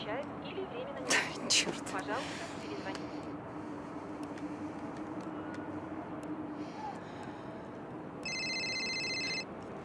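Quiet background rumble and scattered noises, then an electronic telephone ringtone chimes near the end, a short steady burst of bright tones.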